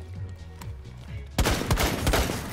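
Several sharp gunshots from Rainbow Six Siege ring out in quick succession over a low game background, loud and near, after a quieter opening stretch.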